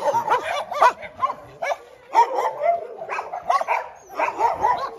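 Several dogs bark and yip over one another in quick, overlapping bursts, fairly loud and close, with occasional whimpers between barks.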